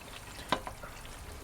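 Pork fat renders into lard in a pot, giving a faint steady bubbling sizzle with a few sharper pops and crackles, heard alone without talk.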